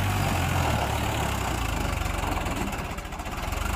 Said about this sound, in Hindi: तो भाई अभी चला रहा हूँ मैं ट्रैक्टर